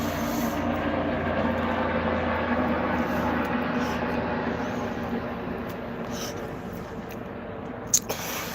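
Two helicopters fly overhead, a loud, steady droning roar that holds without a break, with a brief tap near the end.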